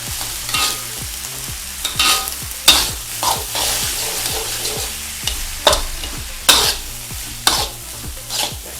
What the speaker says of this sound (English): Let's mix everything together.